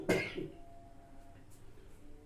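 A single short cough from a man with a cold, one sharp burst at the start followed by a quiet room.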